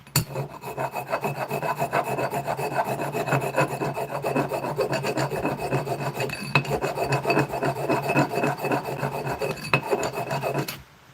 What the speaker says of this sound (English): Have to use a flat file.